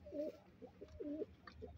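Soft, throaty pigeon coos repeat in a slow rolling rhythm, close by, with a quieter low murmur in the background.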